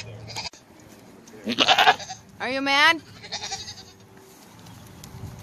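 Goats waiting to be milked bleat loudly nearby in two wavering, drawn-out calls, with a short spoken question between them.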